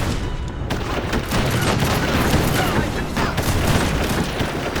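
Battle in the strategy game Age of Empires 3 Wars of Liberty: dense, continuous volleys of gunfire and booming shots crackle loudly together, a chaotic fusillade with no pauses.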